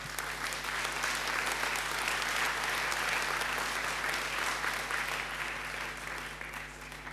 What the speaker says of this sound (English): So let's have a nice round of applause for our panel